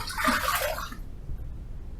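Running water rinses a Feather F3 double-edge-style razor after a shave, a steady splashing rush for about a second that cuts off abruptly, leaving faint room hiss.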